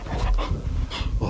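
A dog gives short, close whining and panting vocalizations on the command to speak, a couple of brief loud bursts with no talking over them.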